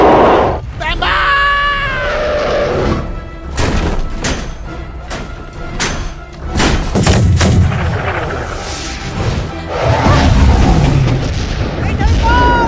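Cannon fire in an animated adventure film: loud, repeated booms and blasts crowd the scene, mixed with shouting voices and dramatic effects throughout.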